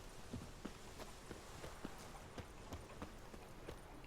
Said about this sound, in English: Where's my horse at? I can call it, right?